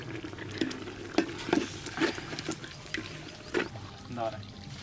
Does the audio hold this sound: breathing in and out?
no